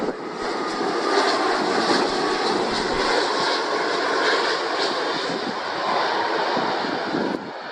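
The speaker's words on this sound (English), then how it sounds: "This military Airbus A330 was forced to land after its left aerial refueling hose failed to retract" A military Airbus A330 comes in to land with a failed left aerial refueling hose, its jet engines a steady, loud, broad roar that holds for several seconds with no voices.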